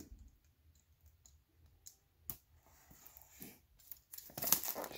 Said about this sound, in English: Just take the plastic off